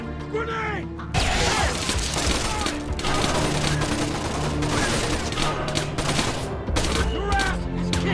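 Grenade blast and sustained gunfire in Splinter Cell Conviction, loud and continuous with crashing impacts, brief gaps, and shouted voices over the chaos.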